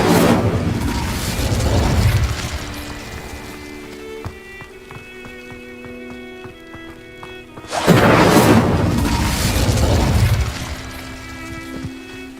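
Incendio fire spells cast in the video game Hogwarts Legacy, two loud rushing, crackling fire bursts, one at the start and one after a quieter stretch with ringing tones, each fading over a few seconds.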